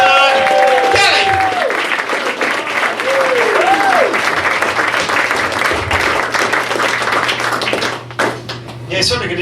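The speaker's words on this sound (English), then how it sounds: "Give him a nice round of applause." An audience at a comedy show bursts into sustained applause and clapping for a comedian taking the stage, loud and dense throughout, with a voice over the crowd and the clapping tapering off near the end.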